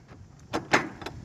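Rear cargo door of a UPS delivery truck being opened, with a few sharp metallic clunks and a rattling slide close by, no talking.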